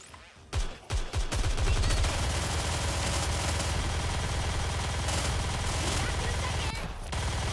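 Rapid video game gunfire bursts out in quick repeated shots, then settles into a dense, continuous clatter of shooting that stays loud and close almost to the end, with game sound layered underneath.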